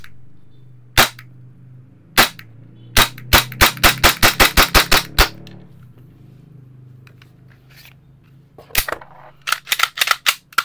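A Krytac Kriss Vector AEG airsoft gun with a 30-round magazine fires several sharp, close single shots, then a rapid burst of about ten, and a few more scattered shots near the end over a low background hum.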